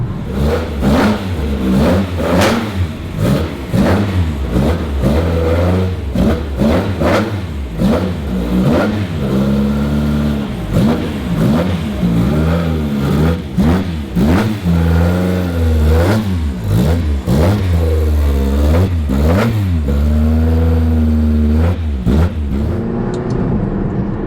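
A McLaren GT's loud engine revs hard and climbs through the gears, rising pitch dropping at each shift, roaring continuously up close.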